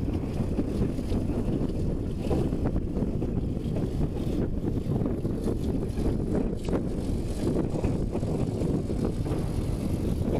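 Steady, heavy wind buffeting the microphone in a wheat and barley field, a continuous low rumbling roar with gusty fluctuations throughout and no voices.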